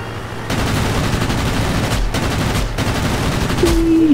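Sustained rapid aircraft gunfire during an air battle in World of Warplanes, a dense loud continuous burst lasting several seconds with brief gaps and an engine whine at the end.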